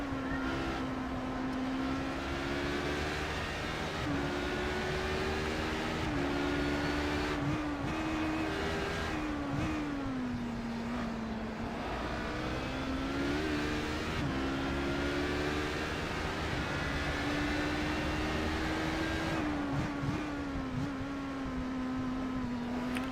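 An LMP2 prototype race car engine in the iRacing sim, heard from onboard at Imola, holds a steady high drone that rises and falls through gear changes, moderately quiet and without talking.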